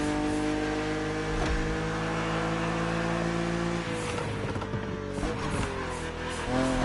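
BMW Z roadster in The Crew Motorfest video game, its engine holding a steady loud drone then shifting pitch and revving as it accelerates and shifts, continuous and close throughout.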